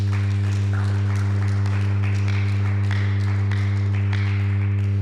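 A church congregation applauding in acclamation of the king of kings, a steady wash of clapping hands over a constant low electrical hum, with no voices standing out.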